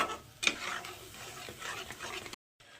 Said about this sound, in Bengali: দুধটা মশলাটার সঙ্গে খুব ভালো করে মিশিয়ে নেব